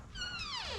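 One short, rising-then-falling meow from a cat, close and moderately loud, lasting under a second.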